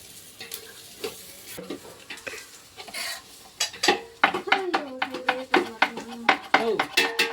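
Onions fry and sizzle in a pan while a spoon scrapes and clanks against the metal in a steady, quickening rhythm, close and fairly loud.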